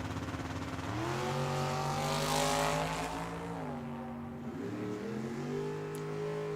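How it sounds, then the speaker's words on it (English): A 1956 Ford Custom Line drag car with a 470 cubic inch big block Chevy engine drones loudly at a drag strip, its steady rumble swelling and shifting pitch in revs, heard alone without talk. "George Thomas, a.k.a. T-Bone, 1956 Ford Custom Line. Got a 470 cubic inch big block Chevy under there."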